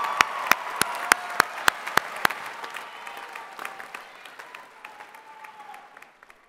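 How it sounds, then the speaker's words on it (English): Audience applause at a California State University, Fresno commencement ceremony, with a few sharp close claps standing out over broad crowd clapping that gradually fades, and faint talk beneath it. "please join me in welcoming your family and friends with a round of applause"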